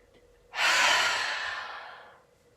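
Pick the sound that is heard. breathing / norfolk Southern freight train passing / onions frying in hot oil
breathing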